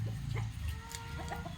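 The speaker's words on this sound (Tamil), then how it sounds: "இங்கே நாட்டுக்கோழி வளர்ப்பு." Free-range native country chickens cluck softly and intermittently in the background over a low steady hum, faint and somewhat distant.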